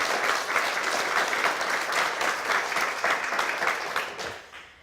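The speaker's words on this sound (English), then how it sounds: "a big round of applause for our winners of the Cookbook of the Year" A crowd applauds the Cookbook of the Year winners at a book awards ceremony, with full, even clapping that holds steady before fading out at the end.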